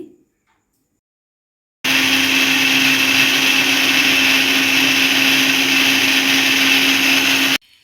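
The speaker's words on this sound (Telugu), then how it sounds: "కొబ్బరి ముక్కలు తీసుకొని మిక్సీ జార్లోకి వేసుకొని కొబ్బరి కూర వచ్చే విధంగా గ్రైండ్ చేసుకోవాలి" A mixer grinder grinds coconut pieces in its jar, starting abruptly after a short silence and running as a loud, steady high-pitched whir for about six seconds before cutting off.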